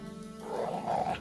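Dogs in The Witcher 3: Wild Hunt let out a low, rough growl that swells briefly, a short snarl heard close against a faint steady game ambience.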